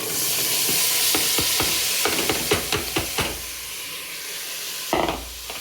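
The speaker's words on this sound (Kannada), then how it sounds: "ಅದನ್ನೆಲ್ಲ ಚೆನ್ನಾಗಿ ಎಣ್ಣೆಯಲ್ಲಿ ಸ್ವಲ್ಪ ಫ್ರೈ ಮಾಡೋಣ" Vegetables including ridge gourd fry in oil for a masala sagu, a bright steady sizzle with a quick run of spatula scrapes and clacks against the pan, close up and with no talking.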